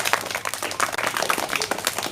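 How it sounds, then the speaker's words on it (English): An audience at a school storytelling competition claps for a boy contestant, a lively close burst of uneven hand claps continuing steadily throughout. "All of you give a big clap to him"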